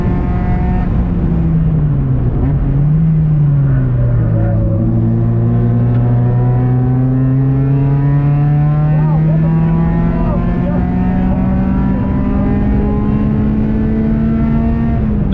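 A ChampCar endurance race car roars loudly and continuously on track, pitch dipping and then climbing steadily as it accelerates through gears.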